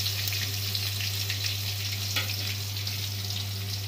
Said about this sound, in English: we are adding the cut onions to that